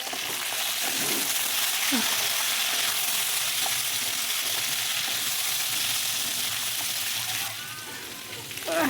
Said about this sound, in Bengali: কাঁচা লঙ্কা শিম আর বেগুন দিয়ে এটাকে আরেকটু ভেজে নেব